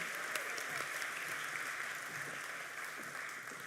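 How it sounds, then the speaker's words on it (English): Audience applause at a New Zealand tech awards ceremony, a sustained full wash of clapping from a large crowd, even in level and slowly easing toward the end. "Another massive round of applause for Halter"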